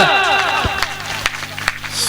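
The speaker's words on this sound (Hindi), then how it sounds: "तालियां बजती रहना चाहिए, जोरदार तालियां।" Loud applause from a poetry-program audience, a dense crackle of many hands clapping close by with a few sharper claps standing out, while a voice speaks over it.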